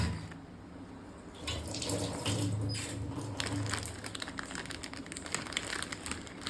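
Measured water is poured into a pot for Maggi instant noodles in a home kitchen, making a continuous, close splashing trickle, with light clinks and rustles mixed in and no talk.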